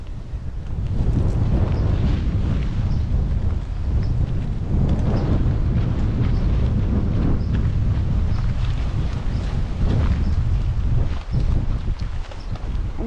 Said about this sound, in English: And even with the wind blowing